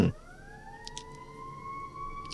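A steady ambulance siren wail rises slightly and then holds, fairly distant, after a brief opening thump, with faint background noise.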